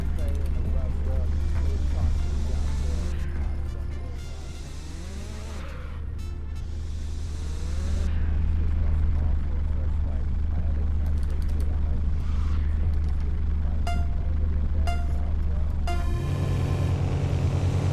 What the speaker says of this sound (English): Oh my god, this car's so loud.